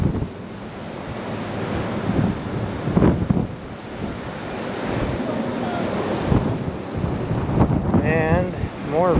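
Strong wind buffets the microphone at Fort Point, a historic coastal fort, producing a loud, continuous roaring rumble with gusts rising and falling, while a voice speaks briefly partway through.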